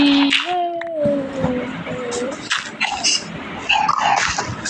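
A puppy dog in the Minecraft video game whimpers and yips in high, wavering cries, fairly loud and close, with other game noises around it.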